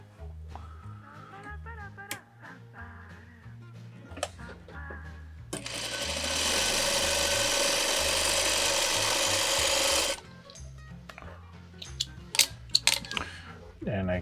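A sewing machine stitches a seam on a curved log cabin quilt block, running steadily for about five seconds in one continuous burst, bracketed by softer handling of fabric and pieces.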